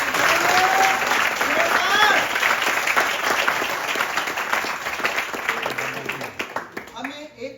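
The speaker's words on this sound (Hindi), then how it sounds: "एक बार जोरदार तालियां होगी" Audience applause in a hall: loud, dense clapping from a crowd with a voice speaking over it, the clapping gradually thinning toward the end.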